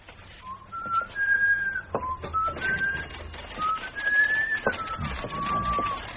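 A person whistles a lilting, wavering melody, clear and close, with soft rustling and faint background noise underneath.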